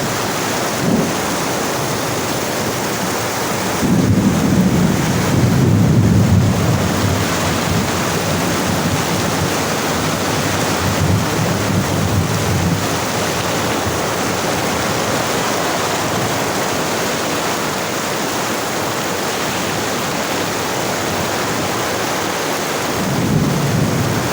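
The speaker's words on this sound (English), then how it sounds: "The water is running." Heavy rain and rushing water flooding a camp during a thunderstorm, a dense, loud, continuous roar with swells of low rumble near the start and end.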